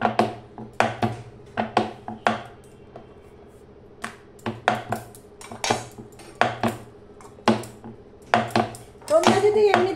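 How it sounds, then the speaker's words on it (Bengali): Aloo paratha dough balls are worked on a board, with repeated sharp taps and clacks of a rolling pin and utensils. The knocks come in uneven bursts, close and crisp, with a brief rattling at the end. "এবার আমি এগুলো বেলে নেব।"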